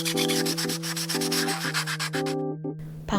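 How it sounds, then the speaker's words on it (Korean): Sandpaper rubbing a small plastic miniature cabinet part flat after a protrusion was snipped off with nippers, a steady close scratchy back-and-forth sanding alone, with a steady tonal hum beneath and a brief pause near the end. "니퍼로 자르고 사포질을 해서 평평하게 만들었습니다."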